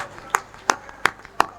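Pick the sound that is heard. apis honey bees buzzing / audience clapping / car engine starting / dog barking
audience clapping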